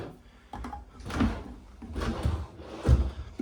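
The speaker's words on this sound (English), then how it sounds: "Pots and pans drawer." A pots and pans drawer in a travel trailer kitchen slides open and shut with wooden rumbling and a few soft thuds, close by, with no talking.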